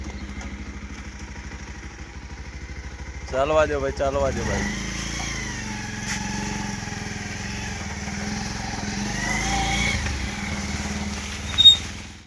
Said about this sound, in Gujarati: બાઇક સ્ટાર્ટ કરો